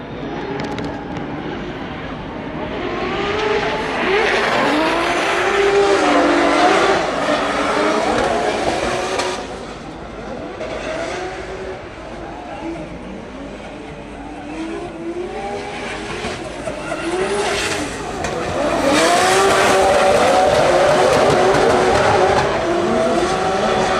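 Drift cars running in practice at Drift Masters GP Ireland: engines roar and rev loudly with long tire squeals, the sound swelling and fading as cars pass, with a voice briefly heard.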